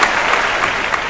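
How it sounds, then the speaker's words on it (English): Audience applause at the CNBC LIME Season 4 judging event for IIM Bangalore: steady, dense clapping from a large crowd, loud and continuous across the whole moment with no voices. "Ladies and gentlemen, a big round of applause for IIM Bangalore."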